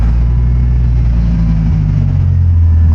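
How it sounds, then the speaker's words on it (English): A car engine, just started with a freshly cut key, runs close and loud with a steady low hum that shifts pitch slightly partway through as it settles toward idle. "We can see we can start the car with both."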